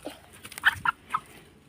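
Quiet, short clucking calls from guinea fowl, three or four brief chirpy notes in quick succession against a soft background.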